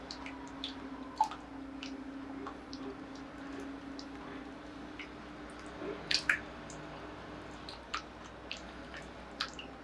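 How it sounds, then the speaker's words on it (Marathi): Tomato and carrot soup pulp pressed through a sieve gives soft, wet squishing and scattered small ticks and drips, faint and close, with a few louder squelches midway and no voices. "केवळ पल्प जो आहे तोच फक्त चाळणीतनं आपल्याला गाळता येतो"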